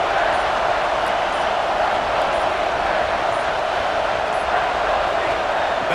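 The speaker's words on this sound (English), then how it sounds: "this defense feeling energy from the crowd" A stadium crowd in the College Football 26 video game, during an Alabama at Auburn simulation, makes a loud, steady roar that stays level and unbroken throughout.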